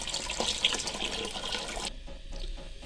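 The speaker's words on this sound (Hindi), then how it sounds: "अब हम इसमें पानी शामिल कर देंगे।" Water runs steadily from a tap into a cooking pot for matar pulao, a continuous splashing gush that shifts in tone partway through as the pot fills.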